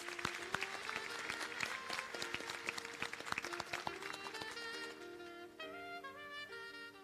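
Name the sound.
round of applause for graduates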